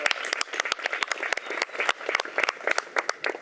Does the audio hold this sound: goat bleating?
no